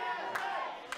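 Wrestling crowd cheering and shouting in a noisy arena, a dense sustained roar with short louder bursts, heard alone for about a second.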